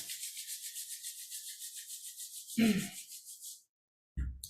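Palms rubbing together during a kundalini movement exercise, a rapid, steady swishing friction in even pulses that goes on for several seconds, then a brief louder scuff, a pause and another short rub.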